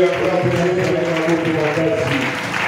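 A church congregation applauds, a dense steady wash of many hands clapping close by, with voices mixed in under the clapping.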